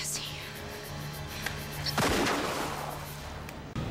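A single loud gunshot from a handgun, fired in a tense confrontation, bursts out midway as a sharp broadband crack, followed by a decaying tail and a second smaller impact near the end.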